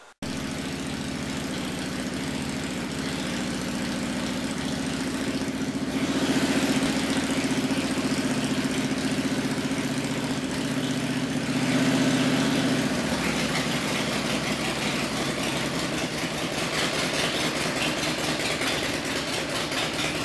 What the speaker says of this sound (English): looks like everything's ready to fire up. Put the exhaust on and off we go.